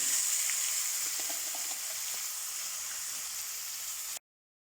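Ground kara chutney paste poured into a hot pan with curry leaves, giving a steady bright sizzle that hisses evenly for about four seconds before cutting off abruptly.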